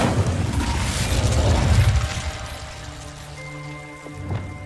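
An Incendio fire spell bursts out in the game Hogwarts Legacy, a loud whooshing, crackling flare of flame that fades into a softer lingering tone with a small pop near the end.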